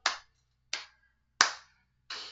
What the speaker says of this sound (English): Come on, everybody, clap your hands real loud